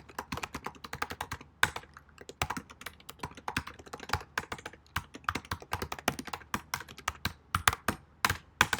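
Fast typing on a computer keyboard while writing an exploit script, with dense, irregular clacks of varied loudness and short pauses, close and clear with no talking.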